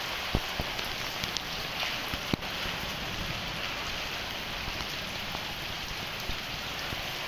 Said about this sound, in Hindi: इतनी तेज बारिश बहुत देर बाद देखी है।